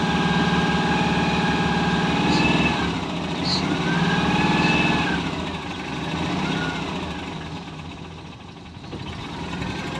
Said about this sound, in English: This sounds like a normal 2CV